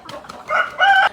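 Village chicken, a native country hen, giving a short burst of clucking and crowing in two loud calls close by, ending abruptly.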